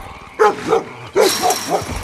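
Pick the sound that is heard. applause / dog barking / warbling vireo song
dog barking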